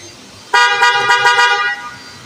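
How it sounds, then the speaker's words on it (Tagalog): A single steady car horn on a Subaru Legacy blares close by for about a second, loud and sustained, then cuts off. "busina mo nga"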